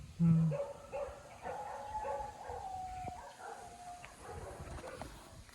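Dogs bark at a distance around a fruit orchard, a few faint yelps and howl-like calls spread across the stretch, quiet under a soft background hum.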